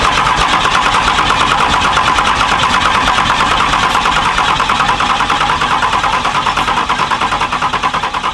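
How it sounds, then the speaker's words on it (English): A Cummins diesel engine with a freshly charged battery cranks loud and close, the starter churning in a fast, continuous rhythmic pulse throughout without clearly catching. "Just for giggles, I'm just gonna go ahead and try and start it."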